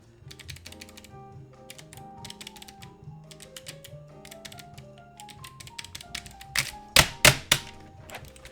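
Fingers tapping and pounding on a malfunctioning computer keyboard, a run of uneven clicky keystrokes that builds to several loud, heavy thumps near the end, with a faint tonal hum in the background.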